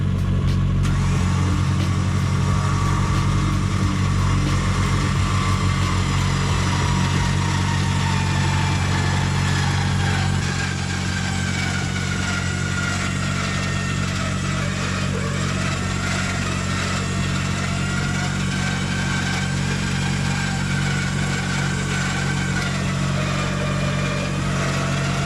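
A Bunker Indust 13000 lb electric winch drags a vehicle with a steady, even motor whine and hum over a low engine-like drone. The drone drops a little in level partway through and then carries on without a break.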